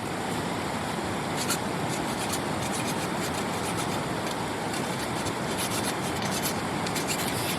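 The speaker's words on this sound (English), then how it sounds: "I'll kind of crank this sideways and file and crank it back sideways" A hand file rasping back and forth over the rough edges of a cut arrow nock, a steady continuous scraping texture heard close up without talk.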